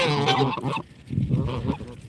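Geese honking close by, several loud nasal calls overlapping in quick bursts with a brief lull partway through.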